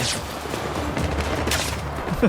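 Gunfire in the video game Battlefield 6, a dense continuous burst of rapid shots and crackle filling the whole stretch, loud and close.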